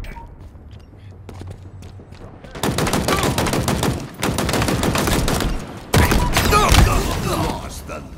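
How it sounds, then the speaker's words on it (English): Rapid bursts of machine gun fire in the Halo Infinite ranked arena multiplayer match, loud and dense in sustained volleys after a quieter opening, with game voice and effects mixed in. "Machine guns suit you, Spartan."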